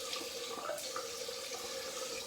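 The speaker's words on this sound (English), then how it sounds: "Warm water to get the soap off, and then cold water to seal the deal." Water running from a tap into a sink while soap is rinsed off during a shave, a steady quiet hiss of flowing water at moderate distance, continuous and unbroken with no voices.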